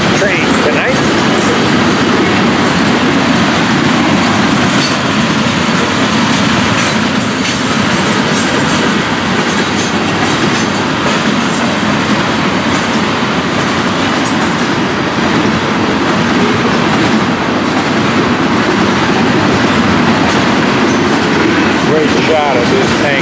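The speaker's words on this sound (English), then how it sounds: "Shot of this tank train." A Florida East Coast freight tank train carrying ethanol rolls past steadily and loudly in South Florida, wheels clacking and rumbling for a long stretch with faint squeals.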